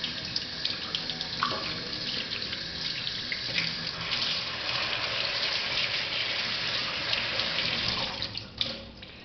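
Water runs steadily from a tap into a sink while cuttlefish is cleaned, a close, constant gushing stream with small splashes and a brief change near the end, no voices.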